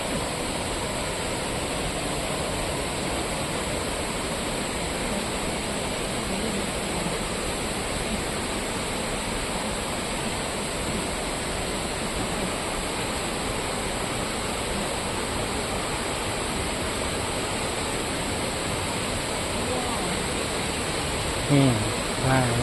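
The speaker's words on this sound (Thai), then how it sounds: "น้ำตกหมอกฟ้านะครับ นี่ ว้า วน้ำตกเนี่ย สวยงามนะครับ" Mok Fa waterfall in Doi Suthep-Pui National Park, Chiang Mai, roars in a steady, loud rush of falling water, close and unbroken throughout.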